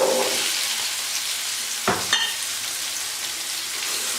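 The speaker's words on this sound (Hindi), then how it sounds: "हम सिर्फ आलू को फ्राई करेंगे" Potatoes frying with onion and tomato in a pan give a steady, close sizzle throughout, with a brief stir or clatter near the middle and no voices.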